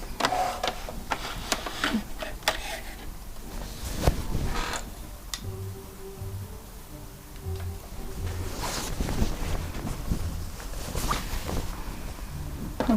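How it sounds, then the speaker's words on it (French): Sewing machine stitching bias binding onto the hem of a dress, a close mechanical whirr in short bursts with pauses, handling clicks and rustling of fabric between runs, no talk. "Je vais vous remontrer ça à la machine à coudre."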